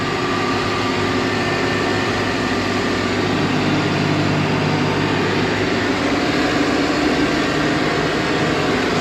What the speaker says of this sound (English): Not only does this payloader take away the corn, but it also helps cover it.